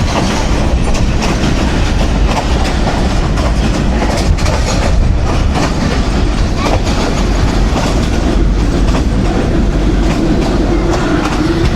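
Millat Express passenger train rolling steadily on rails near Harnpur Junction, a loud, continuous rumble with rhythmic clickety-clack of wheels over joints throughout, no voices.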